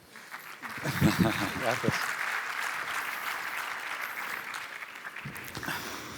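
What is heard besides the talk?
audience applause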